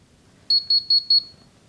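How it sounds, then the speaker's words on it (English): Four quick double beeps ring out in a regular pattern from an OBD scanner reading an oxygen sensor fault code, each a short high-pitched electronic tone, clear and close against a quiet background. "And it's gonna beep at us."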